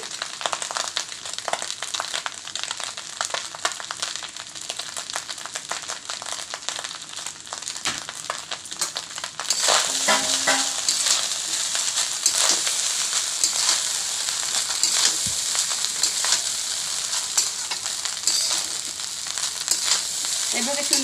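Fried rice ingredients sizzle and crackle steadily in a hot pan, the frying growing louder and brighter partway through with occasional stirring scrapes, close and continuous.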